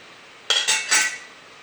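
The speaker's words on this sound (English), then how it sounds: "we have to use the lid to put on top of it" A metal lid is set on a pan of beef stir fry with green beans, giving a brief clattering clink followed by a short sizzling scrape, close and alone.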